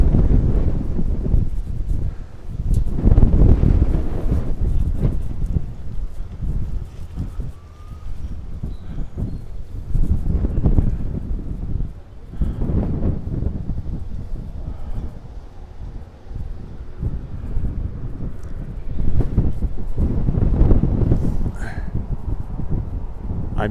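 Wind gusts buffet a microphone outdoors near a railroad crossing, loud rumbling surges that swell and fade in irregular waves throughout.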